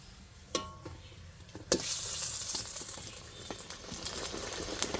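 Prawn fritters frying in hot oil, a steady close sizzle with bubbling crackle that swells after a couple of sharp clinks of a utensil, loud and continuous without talking.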